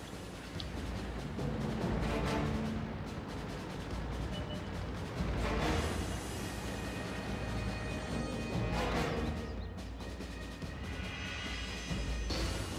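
Heavy artillery cannon fire from a World of Tanks match, loud booming blasts and crashing impacts recurring throughout over dense battle noise, no voices.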